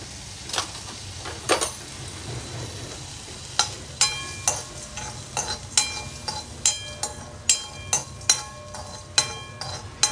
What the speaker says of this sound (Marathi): जेवढे ड्राय आहेत ना ते सगळे मी भाजून घेणार आहे